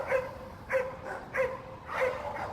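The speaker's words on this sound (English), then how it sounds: "that's what the dogs behind us are all jacked up about" Dogs bark outdoors behind the listener, four distinct yapping barks at a moderate distance, spaced roughly half a second apart, with no talk over them.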